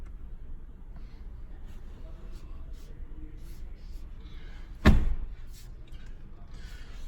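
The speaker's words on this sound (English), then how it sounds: "Open the door." A single sharp mechanical clunk as a BMW 850i coupe's door unlatches stands out against a steady low interior hum, with faint voices murmuring in the background.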